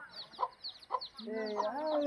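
Chickens for sale cluck at a village market below Kansab hill in Odisha, with several short clucks in the first half and then a longer run of overlapping clucking, fairly faint, with soft background murmur.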